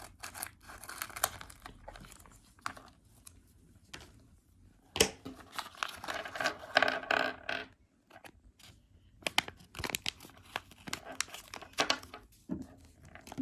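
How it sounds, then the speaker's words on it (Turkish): A Squid Game trading card pack wrapper is torn and crinkled open in close, irregular bursts of rustling and crackling foil, separated by short quiet pauses. "Bir tane daha paketimiz var. Şimdi açıyorum."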